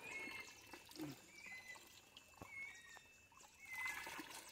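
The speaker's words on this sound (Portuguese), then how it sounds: "melhor água que tem, natural já da fonte" Cold mountain spring water flows and trickles steadily from a natural source outdoors, soft and close, with faint birdsong behind it and no talking.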